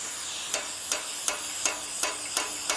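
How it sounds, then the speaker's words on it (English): Sharp metallic hammer blows on hot steel being forged ring out at a steady, even rhythm, about seven strikes, over a faint hiss. "And I'll probably hit it with a hammer."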